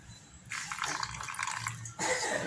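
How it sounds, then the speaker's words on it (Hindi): Water is poured from a tap or jug into flour while kneading potato kachori dough, a steady close splashing stream lasting about a second and a half before the sound shifts to a brighter rush. "थोड़ा सा पानी और ऐड करेंगे"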